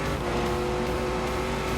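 A supercharged Corvette-engined car launches in The Grand Tour video game, with a loud, steady engine roar that holds throughout a short burst and no talking.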